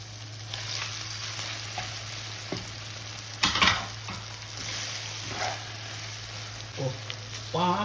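Marinated chicken fries in oil in a karahi for chicken makhani white karahi, a steady sizzle with occasional clanks and scrapes of a spoon stirring against the pot, over a constant low hum.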